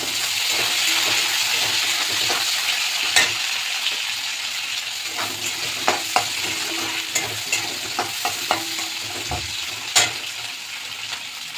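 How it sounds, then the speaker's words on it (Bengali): Chopped onion and green chili fry in hot oil in a pan, a steady close sizzle broken by occasional clicks and scrapes of stirring. "তেলটা গরম হয়ে গেছে, পেঁয়াজ কুচিয়ে কাঁচা লঙ্কা"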